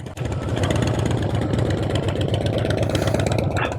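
A big motorcycle engine turns over and settles into a steady, throbbing idle, loud and close with an even pulsing rhythm throughout and no talking.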